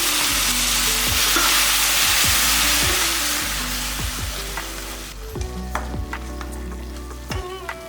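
Chopped onions fry loudly in hot oil for a chicken varuval as tomato paste is poured in; a dense, steady sizzle runs under rhythmic spoon scrapes, then eases and turns more crackly after the paste goes in.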